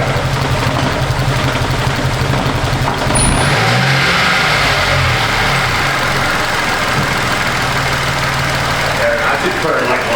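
A Mitsubishi Mirage engine runs loud and close, settling into a rough idle before being revved hard a few seconds in, its pitch climbing and surging in uneven swells.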